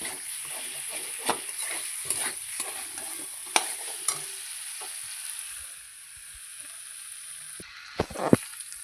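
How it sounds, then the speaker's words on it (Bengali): Fried cauliflower and potato sautéing in a pan, with a soft continuous sizzle broken by sharp spatula scrapes and knocks at irregular intervals, close and moderately quiet. "ভেজে রাখা ফুলকপি আর আলুটা দিয়ে দিলাম। এরপর আমি এটা একটু ভালোভাবে কষিয়ে নেব"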